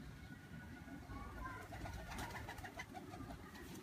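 Pigeons cooing in a loft or coop, soft low throaty coos repeating in a gentle rhythm at close range over faint background noise, with quiet voices also present.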